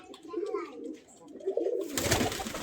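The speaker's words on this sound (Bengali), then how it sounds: "এখানে দেশি কবুতর রয়েছে সুন্দর" Local domestic pigeons coo softly in a loft, a few low murmuring calls rising and falling close by, followed by a burst of fluttering noise near the end.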